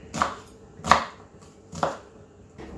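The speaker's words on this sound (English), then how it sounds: "we'll just have a little chop in there and see what we think" Four distinct knife chops on a board, spaced unevenly with short pauses between, close and crisp, with no talk.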